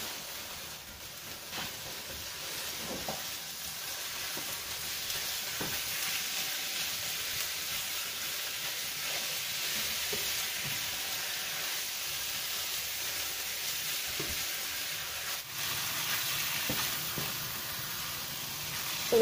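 Minced meat frying in a pan, a steady loud sizzle and hiss running throughout with occasional clinks and stirring bumps, no talking.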